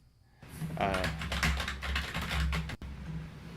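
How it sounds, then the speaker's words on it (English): Rapid, loud clatter of keys on a computer keyboard, close and dense, with brief talk mixed in during a livestream. "who's going to type loudly while Jason is performing?"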